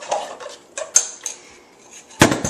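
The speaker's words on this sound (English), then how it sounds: "And then you just give that a stir." Date and nut loaf batter being stirred in a bowl, a few scattered clinks and scrapes of a utensil against the bowl, ending with a louder knock.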